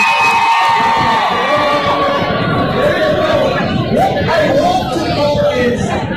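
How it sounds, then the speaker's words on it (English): Loud, close crowd noise at a football final, with shouting, whoops and chatter as fans try to get into the ground. Individual voices cut through the dense, continuous roar. "this is the crowd. This is trying to get in."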